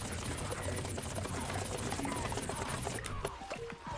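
A buzzing, helicopter-like whir from Cactus's drone in Plants vs. Zombies Battle for Neighborville drones steadily, faint and continuous, with clattering game effects near the end.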